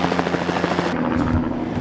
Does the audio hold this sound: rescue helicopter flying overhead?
yes